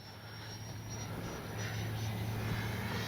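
An FMS Integral 80mm electric ducted-fan RC jet flies at about half throttle, giving a steady whooshing fan whine with a faint high tone, holding even and growing slightly louder as it passes, with no voices.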